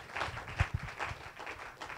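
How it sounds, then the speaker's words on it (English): A felicitation event audience applauds in a dense, steady wash of many hands clapping, with a few louder claps standing out near the start and no talking. "Please give them a big round of applause."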